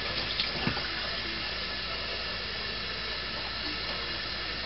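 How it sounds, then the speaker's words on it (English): Tap water runs steadily into a quart canning jar packed with shredded zucchini, a continuous broadband hiss and splash, close and even throughout, with no talking. "fill it up with water."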